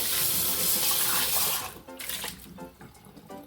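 Kitchen tap water pours steadily into a container for about a second and a half, then breaks into splashing and trickling as the container is rinsed, close and moderately loud.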